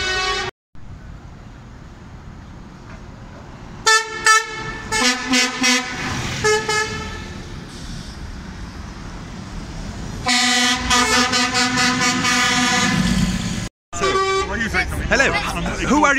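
Car horns honk repeatedly in long and short blasts at a London street campaign event, some overlapping, with traffic noise and talking between bursts.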